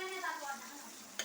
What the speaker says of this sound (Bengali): পেঁয়াজটা আমার মোটামুটি একটু ভাজা ভাজা হয়ে গেছে